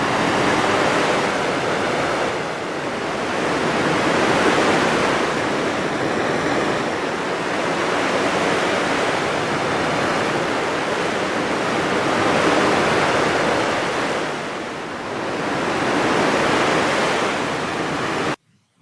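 Synthesized sea waves play back as a loud, dense roar of surf, surging and easing in slow rolling swells every few seconds, with no voices, before cutting off abruptly.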